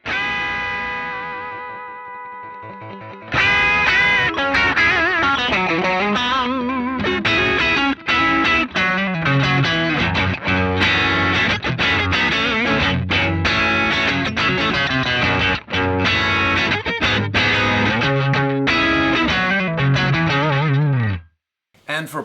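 An electric guitar plays through a modded TS7 overdrive in the Mercuriall SS-11X plugin, with a ringing chord first and then loud, continuous bluesy lead lines that end in a quick fade.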